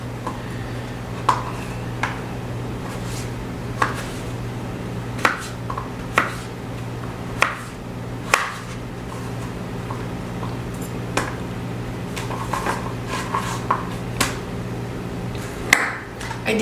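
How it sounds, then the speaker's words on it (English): Knife slicing potatoes into French fry shaped pieces, sharp cuts landing on a board at an uneven pace, a dozen or so distinct chops over a steady low kitchen hum. "I'm just going to cut these into French fry shaped pieces"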